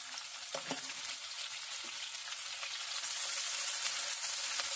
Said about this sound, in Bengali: পেঁয়াজটাকে হালকা ভেজে নেব।